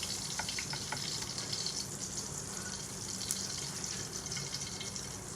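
Pieces of salmon frying in a pan, a steady close sizzle and crackle with a watery hiss that runs on evenly.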